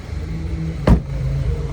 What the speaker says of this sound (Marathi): चला मग आता गाडी पार्क करतील इथे